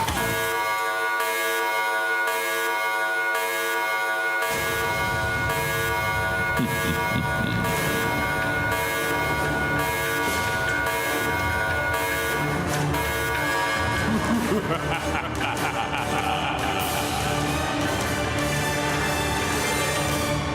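An alarm sounds during a live dance show on stage, a loud sustained electronic tone with steady pulsing pitches that fills the hall for about twenty seconds, joined midway by rising music and crowd-like noise.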